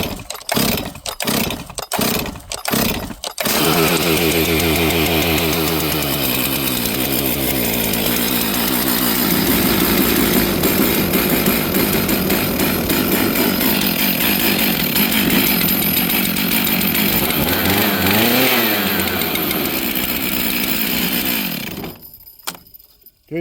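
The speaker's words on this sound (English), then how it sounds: "let's pull this power saw over and see" Several quick starter-cord pulls on a 70cc Stihl chainsaw with first-generation M-tronic. The engine catches and roars at a high, steady idle-to-rev drone, loud and close, for about twenty seconds. It drops away abruptly at the end.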